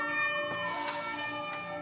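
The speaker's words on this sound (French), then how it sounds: "Waouh, c'est fort hein, les sirènes." Emergency sirens wail outdoors, a steady layered tone with brief surges, fairly faint and heard alone without talk.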